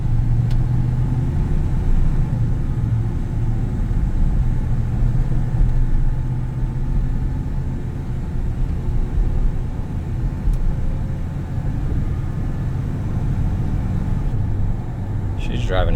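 A 1982 Ford F-150 XLT longbed pickup truck driving, its engine and road noise forming a steady low rumble throughout, with faint talk in the cabin.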